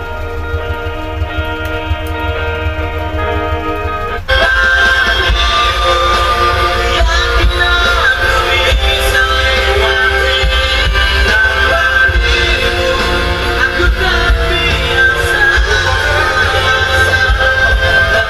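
Music plays loudly and steadily from the speakers of a Jeep Willys K5, with a thumping bass line and melodic tones; it starts softer and jumps in volume about four seconds in, continuing without talk.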